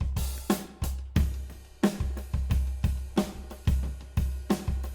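A simple looped drum beat plays on its own, with steady kick and snare hits in a regular pattern and a washy cymbal layer, likely the ride used for a chorus section.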